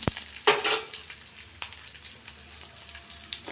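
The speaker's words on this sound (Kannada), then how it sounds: "ಹಸಿಮೆಣಸಿನ್ಕಾಯಿ ಚೆನ್ನಾಗಿ ಫ್ರೈ ಮಾಡಿ" Green chillies fry in a pan, with an ongoing sizzle and a few sharp clinks and scrapes of stirring at the start and middle.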